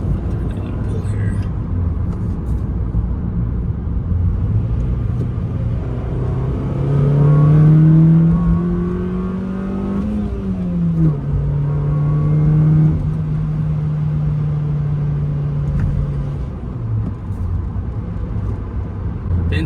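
A 2007-2008 GD3 Honda Fit Sport fitted with an Injen cold air intake accelerates hard, its engine note climbing steadily before dropping sharply at each upshift, then rising again, with someone talking over the engine.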